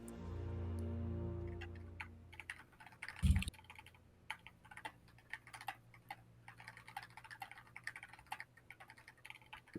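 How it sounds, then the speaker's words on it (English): Rapid typing on a computer keyboard, with irregular clacky keystrokes in bursts, runs near the microphone after a low hum fades out, with a single loud thump partway through. "Sorry, I was typing lore."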